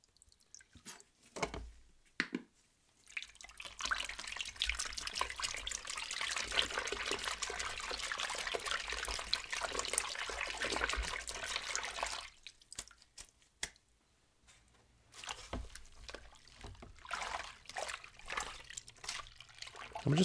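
PS4 console parts being washed with soap and water, close splashing and trickling in bursts with sloshing and dripping between quieter pauses, and no voices.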